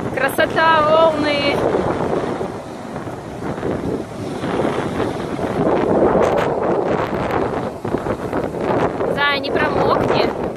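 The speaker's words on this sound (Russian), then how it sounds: "Вот это ветер." Strong, steady wind at the seashore buffets the microphone in a continuous roar, with brief spoken voices near the start and end.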